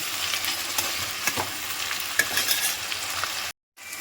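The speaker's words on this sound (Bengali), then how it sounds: "এগুলোকে হালকাভাবে একটুখানি ভেজে নেব" Vegetables including capsicum lightly frying in a pan for restaurant-style chilli chicken, a steady close sizzle with soft stirring scrapes, cutting out briefly near the end.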